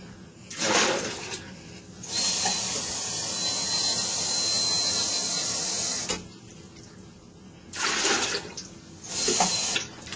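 Water runs steadily for several seconds in a continuous rushing stream, filling a pot halfway for cooking egg noodles, with brief splashy bursts before and after.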